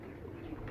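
Pigeons kept by a breeder give a faint, low, soft cooing over quiet background sound in one brief stretch.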